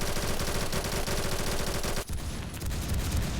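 Steady rhythmic gunfire from a weapon in the shooter Phantom Forces, loud and fast for about two seconds, then a short break before more sharp shots and rumbling game noise resume.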